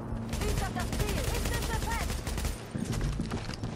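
Gunfire rattles in The Division, a shooter video game, with bursts of shots and blasts over a chaotic firefight while a player talks over part of it.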